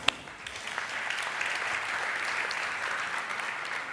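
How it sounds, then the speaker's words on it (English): A large audience at a CSS web development conference breaks into applause, a broad, steady wash of clapping that swells after a sharp opening clap and holds evenly, slightly distant in the hall. "Give yourselves all a round of applause"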